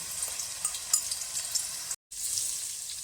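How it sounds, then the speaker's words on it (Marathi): Ginger and garlic sizzle in hot oil with a steady bright hiss and light crackle. It runs close and continuous, broken by one brief silence, with no talking. "यात आता आपण आलं लसूण हे आहे हे घालून घेऊ"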